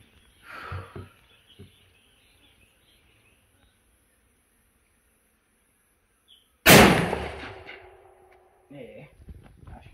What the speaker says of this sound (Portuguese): Aí pessoal, 50 metros, os dois disparos, só pegou um.